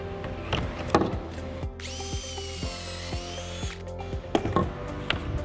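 A power drill drives pocket screws into wooden farmhouse bench boards, with several short bursts of motor whine and one longer sustained run in the middle, close and alone.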